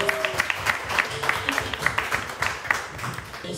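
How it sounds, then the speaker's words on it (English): Scattered applause at a book signing in New York, a small crowd's individual claps distinct and uneven over a few seconds, fairly close and moderately loud, with faint background voices. "Please give her a round of applause."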